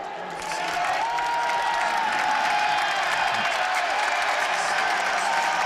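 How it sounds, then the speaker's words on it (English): Crowd in a basketball arena at a Clemson versus Boston College men's college game, swelling into loud sustained cheering and applause that holds steady, with whistles and shouts scattered through it. "letting the crowd know it's okay to cheer now"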